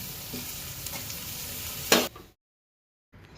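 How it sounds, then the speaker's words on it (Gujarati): Curry-leaf tempering for Gujarati batata poha sizzles loudly in hot oil in a pan while being stirred, with a sharp burst of frying near the end before the sound cuts to silence. "વઘારને આપણે પાંચેક મિનિટ પકાવી દેવું"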